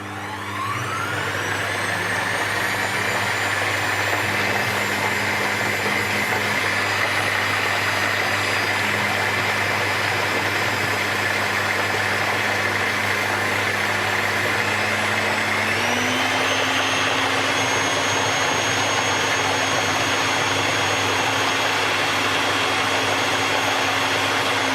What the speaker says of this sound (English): you just want to add just enough that it allows the food processor to create a puree